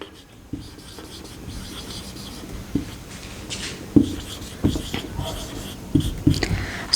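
A pen scratches and taps on paper while working out the weight of one iron rod, with irregular strokes and clicks, near and moderately loud, and faint background murmurs.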